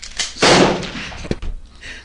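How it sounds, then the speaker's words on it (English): A gunshot sound effect fires as one loud, sharp blast followed by a fainter second crack about a second later, with brief echo and no talking. "scattered periods of gunshots in the early evening"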